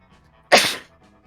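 One sharp human sneeze, close and loud, bursting suddenly out of near silence and fading quickly.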